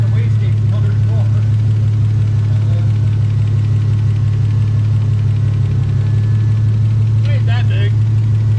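A small-turbo car engine idles with a steady low rumble that holds throughout, close and loud, with a brief higher rattle near the end; people talk over it at times.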